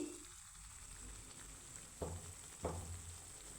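A homemade two-ingredient snack frying in oil on low-medium heat gives a faint, steady sizzle, broken by two brief clinks or taps near the end.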